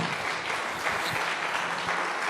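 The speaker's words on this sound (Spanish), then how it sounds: "Denle aplauso al Señor." A dense burst of clapping from a church congregation, steady and continuous throughout.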